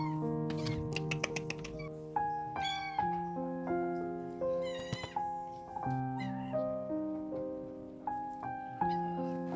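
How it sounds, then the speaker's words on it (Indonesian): A young stray kitten gives several short, high meows at feeding time over soft background music, with a few light tapping clicks early on. "Nah, ini si anak kucing baru."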